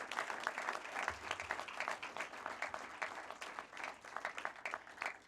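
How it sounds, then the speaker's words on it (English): Graduates at a graduation ceremony held at a sports club clap for themselves, a fairly distant, steady patter of many hands with individual claps standing out, continuing evenly throughout. "I think you need to clap for yourself, you have done it proud."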